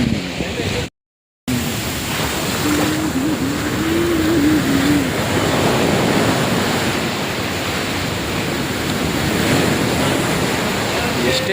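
Ocean waves washing onto the beach near Chennai port, a continuous loud surf wash with wind buffeting the microphone, briefly cut out early on, with no clear talk.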